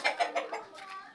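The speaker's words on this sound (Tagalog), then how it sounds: "Manok, manok, manok!" A chicken clucks in short repeated bursts, fairly faint, with a few quick calls followed by softer trailing sounds.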